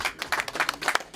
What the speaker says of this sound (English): big round of applause for the boys